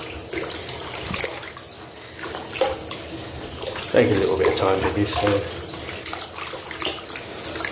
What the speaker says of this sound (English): put a bit in, put some water in, and just begin swishing it out.